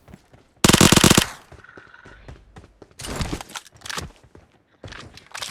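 PUBG gunfire at Pochinki, a loud close burst of rapid shots, then further shots and thuds in scattered bursts with quieter gaps.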